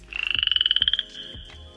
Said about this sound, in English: Animal Tree Frog.